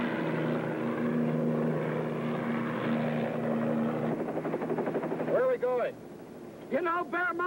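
A helicopter's rotor and engine drone steadily and loudly at close range, sustained throughout, with a voice speaking briefly over it near the end.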